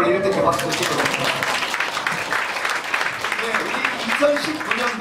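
A church congregation claps together in a steady, dense wash of applause that holds for about five seconds, loud and close, with scattered voices mixed in.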